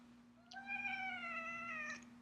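A house cat gives one long, drawn-out meow, rising slightly then holding steady, close and clear over a constant electrical hum.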